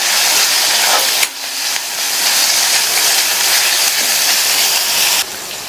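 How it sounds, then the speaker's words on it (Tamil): Ginger garlic paste sizzles in a hot pan with a loud, continuous hiss, fading briefly once or twice as it is stirred, with no talking. "இஞ்சி பூண்டு விழுதோட பச்சை வாசனை போக 1 நிமிஷம் வதங்கட்டும்."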